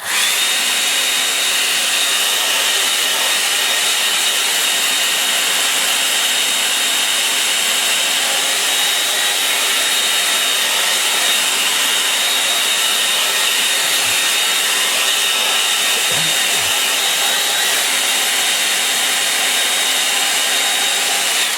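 A hair dryer drying a watercolour painting, a loud, steady, close whooshing roar that runs unbroken throughout, with a couple of faint low knocks near the end.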